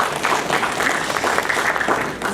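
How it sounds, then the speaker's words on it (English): An audience at a property sales presentation in Atlanta gives a brief burst of steady, moderately loud clapping that fills the room without pause. "So let's get a clap for that."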